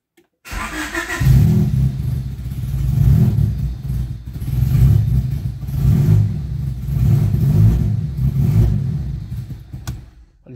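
A 1992 Honda EG engine cranks and catches, then revs unevenly in repeated surges with a rough, misfiring stumble, loud and close, before cutting off near the end.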